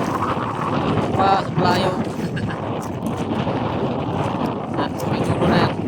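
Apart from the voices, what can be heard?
strong wind blowing at sea, boat ride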